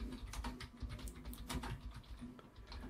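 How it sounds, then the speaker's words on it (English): Rapid, irregular keystrokes on a computer keyboard, clicking steadily and fairly faintly for about three seconds over a low background hum, with no talking. "you might be hearing the typing noise. That's because of the keyboard."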